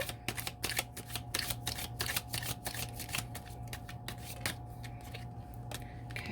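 Tea leaf cards being shuffled by hand, a rapid run of crisp riffling flicks and slaps, close up, alone with no voices.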